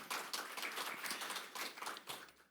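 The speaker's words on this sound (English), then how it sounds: "Please, a round of applause for her." Audience at an energy innovation panel event applauds a panelist, a Senior Advisor at GET.Invest, with a short burst of steady, fairly quiet clapping from many hands, fading slightly toward the end.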